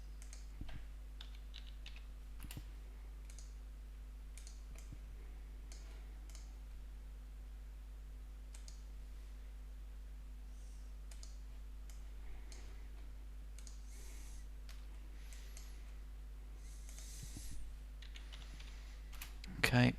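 Keyboard typing during a Rhino 3D modeling session, heard as scattered light clicks and short bursts of keystrokes at low level over a steady low hum, fairly close, with no talking.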